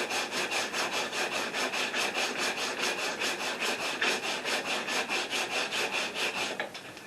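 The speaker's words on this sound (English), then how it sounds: "Just take a sanding block and do a final shape on it to get the nice and smooth and down." A sanding block worked back and forth along the wooden neck of an acoustic guitar, giving a loud, close, rhythmic rasp of even strokes that eases off at the end.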